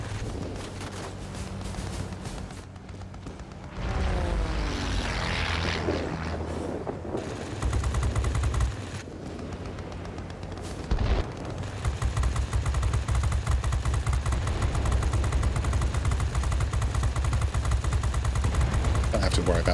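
Aircraft guns firing at ground attackers in World of Warplanes, a dense continuous rattle of gunfire layered with engine drone, loud and sustained throughout, with a speaking voice over it early on.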